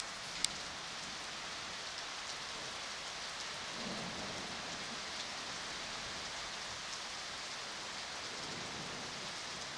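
A thunderstorm with lightning brings steady, hissing rain throughout, and a low rumble of thunder swells briefly near the middle. A single sharp click sounds near the start. The whole scene is fairly faint and distant, with no voices.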